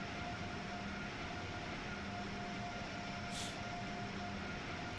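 Long Island Rail Road train in Train Sim World 6 passing near Woodside, a steady low rumble and hum of rolling rail cars at moderate distance, continuous and even, with no talking.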